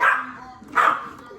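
A dog barks twice in quick succession, close by, with a short gap between the two bursts during a home baking session.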